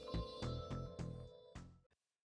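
A telephone rings as a story sound effect, loud repeated electronic trills, about five bursts in quick succession, ending abruptly.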